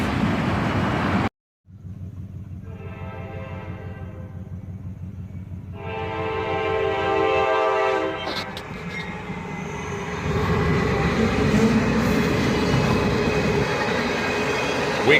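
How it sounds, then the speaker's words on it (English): A CSX ES40DC leading a Union Pacific SD70M rolls past at a crossing, diesel engines droning loudly as the horn sounds in long blasts, then rail noise and clatter of passing cars continue. "A CSX ES40 DC leads, followed by a Union Pacific SD70M."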